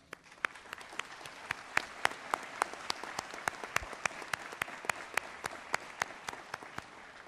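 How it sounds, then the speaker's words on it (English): An audience at the 34th annual Joliet Junior College adult education graduation ceremony claps steadily for about seven seconds, with crisp individual claps standing out from a sustained, even roar of applause. "I think that deserves a round of applause"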